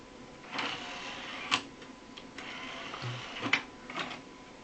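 Optical drive tray on a Compaq Presario 6000 desktop ejecting slowly, a few soft mechanical clicks and a low whirring motor hum spread over several seconds, close and fairly quiet with no talking.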